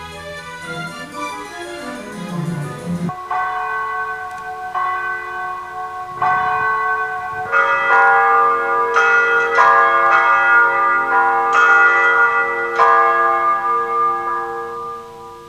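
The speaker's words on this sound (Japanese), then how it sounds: "12時の鐘が鳴り終わると" A church bell strikes midnight. Several loud, resonant strikes come one after another, each ringing out in a long overlapping hum that fills the space between strokes.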